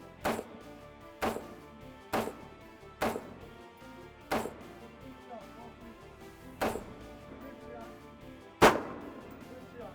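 Single gunshots at a steady pace during a military shooting competition between Navy and Marine shooters, seven reports about a second apart with the last one loudest, all distant and sharp.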